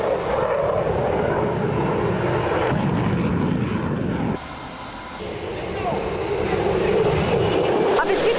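An F-16 fighter jet on a training flight in Denmark, a steady loud engine roar that holds, dips briefly and swells again, with a voice talking over it.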